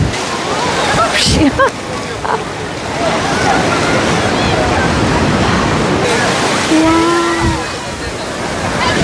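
Broad, steady roar of sea surf washing onto the shore at Thiruchendur Murugan Temple, with wind noise and a few brief voices in the background.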